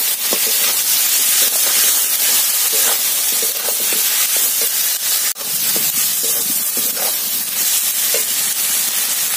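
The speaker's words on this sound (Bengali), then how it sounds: "ভালো করে মশলার সঙ্গে কষিয়ে নেবো আনাজটা।" Okra sautéing in a pan with turmeric, chili powder and salt, a steady close sizzle and hiss with soft stirring scrapes throughout, with no talking.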